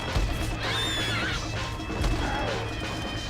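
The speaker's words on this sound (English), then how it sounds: "The flaming horse is coming right for me." Flaming undead horse in Red Dead Redemption: Undead Nightmare lets out a shrill, wavering whinny, backed by hoof clatter and a crashing impact, with faint game noise and voices underneath.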